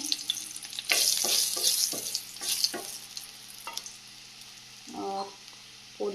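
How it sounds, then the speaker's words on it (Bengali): Dried red chillies sizzle in hot oil in a home kitchen, with a bright crackle interrupted by several sharp clinks of a stirring utensil against the pan, loud and close. "তেলটাও গরম হয়ে গেছে দিয়ে দেবো শুকনো লঙ্কা"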